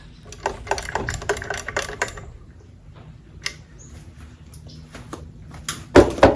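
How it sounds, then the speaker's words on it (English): Screws being tightened on the lower unit of a 1968 Evinrude 9.5 outboard motor, a close run of small metallic clicks and scrapes in irregular bursts, quieter in the middle, ending with a few louder knocks. "I got all 4 screws tightened up"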